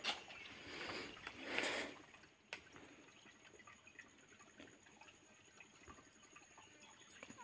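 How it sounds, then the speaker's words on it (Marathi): Water runs steadily at the mouth of an Indian crested porcupine burrow in Konkan countryside. The hiss is soft and close, with a brief louder gush near the start, then trickles and occasional drips. "हे बघू इथं पाणी वाहत आहे"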